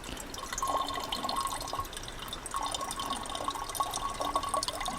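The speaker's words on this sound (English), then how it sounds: "So now I can fill my water bottle up." Water from a CNOC Vecto container trickles into a water bottle, a steady thin pour with a rising, hollow filling tone repeating in short spells against faint background hiss.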